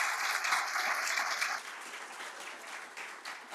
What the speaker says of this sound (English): Let's give these guys a hand.